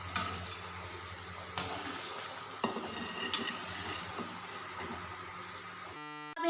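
A pot of chicken wings shorba with white chana simmers and is stirred, a steady soft sizzle and bubbling with occasional spoon scrapes and clinks, fairly quiet and close, ending in a short electronic tone.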